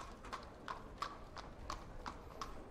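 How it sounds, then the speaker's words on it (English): Horse hooves walking past as a sound effect during a tabletop role-playing game, soft and fairly distant clip-clops in an even, unhurried rhythm of about seven steps. "As a horse walks past."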